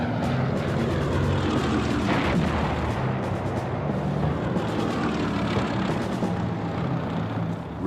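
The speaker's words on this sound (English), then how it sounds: "Spitfires fly from their airfields in southern England." Supermarine Spitfire fighter planes flying from airfields in southern England, a dense continuous propeller-engine roar that stays loud and steady throughout, with rumbling bursts mixed in.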